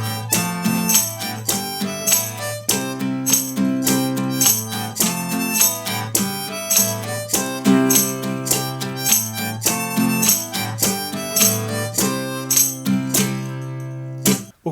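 Acoustic guitar strums a steady rhythmic pattern while a harmonica plays a melody, with bright repeated strokes and sustained reedy notes, fairly loud and close, no talking.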